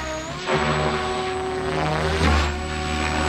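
A Mikado RC helicopter on a Vbar tuning flight punches out, its rotor and motor whine rising to a loud, steady pitch with a second surge near the end, heard close with no talking.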